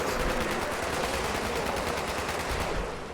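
Automated base turrets in Fallout 76 fire continuously at an enemy, a loud, dense stream of rapid gunshots over about three seconds with no pauses.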